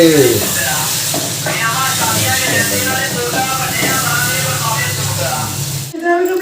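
Korma curry simmering in ghee in a pot is stirred, giving a steady close sizzle and frying hiss with soft scraping that continues throughout before stopping abruptly near the end.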